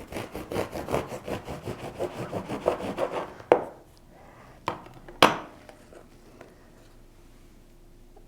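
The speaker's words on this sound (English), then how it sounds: "Here is my loaf of sourdough. And it's really good bread. I'm going to slice it so you can see what it looks like." A knife saws back and forth through a loaf of sourdough bread in quick rasping strokes for about three seconds, then a few sharp knocks and thuds as the blade and slice settle.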